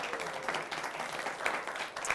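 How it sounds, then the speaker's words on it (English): An audience at a show's closing finale applauding, steady dense clapping from a sizable crowd for a couple of seconds, fairly close and even. "Just give yourselves a round of applause."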